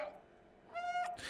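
A cat meowing in the video game Stray on PS5, heard through the controller's speaker: a short, close, tonal meow with a whiny rise, followed by a noisy breathy burst, and no other voices around it.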